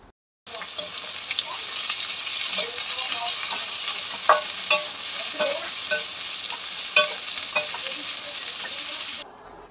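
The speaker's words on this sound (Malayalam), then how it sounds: "ഇഞ്ചി അതുകൂടെ ചേർത്ത് ഇത്തിരി ഉപ്പൊക്കെ ഇട്ട് ഇതൊന്ന് വഴറ്റിയെടുക്കാം" Garlic and ginger with salt sizzling steadily in a hot pan, with several sharp scraping stirs of a spoon cutting through the frying hiss at intervals.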